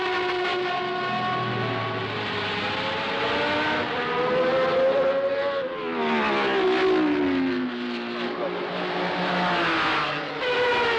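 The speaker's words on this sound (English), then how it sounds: "always the incessant wail of the cars knifing through the merriment" Race cars scream past at night during the 1973 Le Mans 24 Hours, high engine wails rising and falling in pitch as several cars pass one after another, loud and sustained with overlapping whines.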